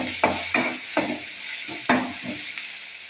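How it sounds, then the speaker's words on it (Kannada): Cinnamon, cloves and other ingredients for mutton sambar fry in a pan while a spatula stirs them, giving six or seven sharp scraping strokes at an uneven pace over a soft, steady sizzle, with no talking. "ಎಲ್ಲ ಹಾಕ್ಕೊಂಡು ಈ ಸತಿ ಫ್ರೈ ಮಾಡ್ತಾಯಿದ್ದೀನಿ"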